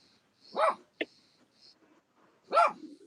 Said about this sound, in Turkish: bak Tarçın da duydu köpekleri, Tarçın da havlıyor